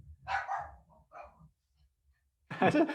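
A dog gives a short burst of loud, close barks near the end, after a stretch of quieter, indistinct sounds in a home where a child is also present.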